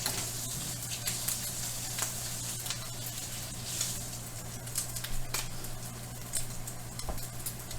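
Bacon frying in a pan for a burger meal, a steady crackling sizzle with scattered sharp pops and spatters, close and moderately loud, with a low hum beneath.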